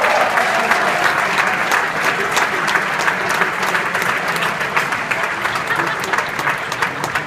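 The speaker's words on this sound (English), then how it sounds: "it's also applause" Sustained audience applause at a gala, greeting a 1963 Heisman Trophy winner and NFL Hall of Famer as he is introduced; dense steady clapping from a large room, loud and continuous throughout.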